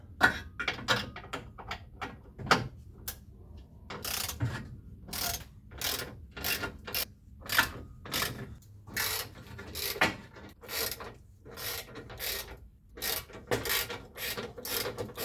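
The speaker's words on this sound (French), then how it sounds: "je le fais à la clé dynamo" Torque wrench ratcheting on a car's front crossmember while its screws are loosened, with repeated bursts of clicking, close and fairly loud, coming in quick irregular runs with short pauses.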